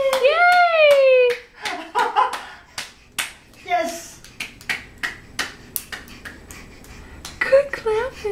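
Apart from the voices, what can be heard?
child clapping hands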